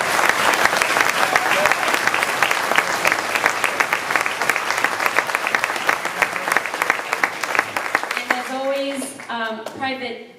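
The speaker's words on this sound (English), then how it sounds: "let's give a big round of applause to Dr. Dodd, Mr. Mara, and Mr. Merritt" A school award concert audience gives loud, sustained applause for administrators, dense clapping throughout that fades out near the end as a voice begins speaking.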